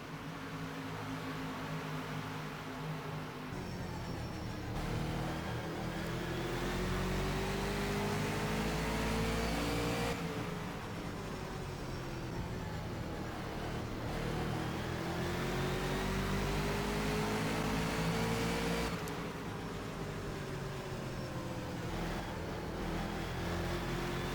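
Super late model stock cars race around Madison Speedway in a sim racing game, with a steady, loud drone of multiple engines revving and shifting pitch as cars pass, continuous throughout.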